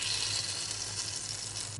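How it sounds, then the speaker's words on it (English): Freshly baked chicken breast sizzles hot from the oven, a quiet steady hiss and crackle lasting under two seconds, heard alone without any voices. "come on, you can't say no to that sizzle"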